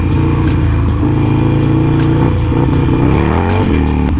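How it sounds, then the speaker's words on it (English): A motorcycle engine revved by a kid in a Chicago street runs loud and close, with a continuous throaty roar that swells and dips through a few uneven throttle blips. "Every chance I get to interact with a kid and let him rev the bike, I have to."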